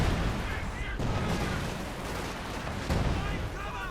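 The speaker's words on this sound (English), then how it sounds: "Lot of artillery there" Artillery barrages in Company of Heroes 2, a dense, continuous roar of booming blasts and gunfire with a few sharper hits, heard under a commentator's speech throughout.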